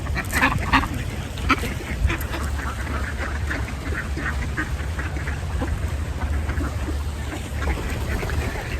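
White ducks and geese quack and honk while eating feed, a busy scatter of nasal calls over constant background noise, some calls near and louder, others fainter, with no one talking.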